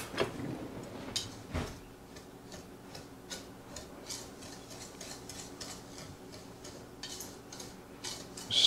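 A small whisk stirs dry pectin and sugar in a bowl for low sugar strawberry jam, making a quick, continuous ticking and scraping rhythm that stays close and fairly soft, with no talk.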